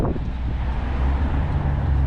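Strong coastal wind in South Australia roars across the microphone as a dense, steady low rumble with no break over the short stretch.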